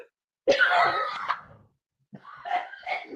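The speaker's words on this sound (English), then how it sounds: "We're having coughing fit problems" Two harsh bursts of coughing close to the microphone, separated by a brief silence, the second broken into several rough hacks.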